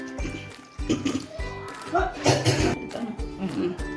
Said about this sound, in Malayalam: ഇതിന് ഒരു രണ്ടര കപ്പ് വെള്ളം ഒഴിക്കാം